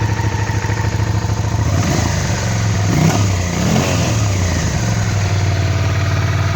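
A Suzuki SV650 motorcycle, running a little smoky with rear-cylinder intake valve trouble, idles with a steady close engine drone, then revs up and settles back around the middle, loud throughout with no talk.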